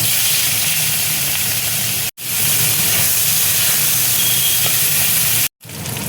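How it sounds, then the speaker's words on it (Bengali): Prawns frying in hot oil, a loud steady hiss and sizzle heard close, broken by two short silent gaps. "এবার দেখো চিংড়ি মাছটা আমি তেলের মধ্যে ভেজে নেব।"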